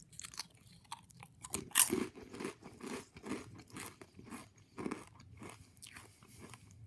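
Crunchy Lay's everything bagel and cream cheese potato chips being chewed up close, a rapid, irregular series of crisp crunches and crackles, quiet and alone without talk.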